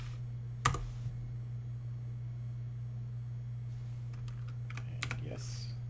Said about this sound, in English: Yes, I'm typing wget